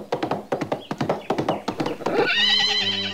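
A carriage horse in a cartoon idiom story gives rapid clip-clopping hoofbeats in a steady rhythm, followed by a drawn-out, wavering neigh near the close, loud and close with no talking.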